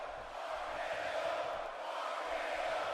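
Crowd noise in a wrestling video game, a steady, dense roar of many voices filling the arena continuously and loudly, with no distinct words or rhythm.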